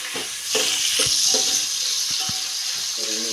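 A tempering of onions sizzles and fries in a pan for sambar, with a steady hiss broken by a few light stirring knocks.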